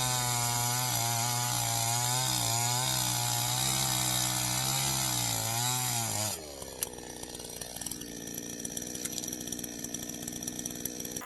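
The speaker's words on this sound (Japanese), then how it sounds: "チェーンソーは楽しいです。" A chainsaw revs with a loud, wavering engine whine, then bites into a wooden post with a coarse, steady grinding buzz that continues to the end.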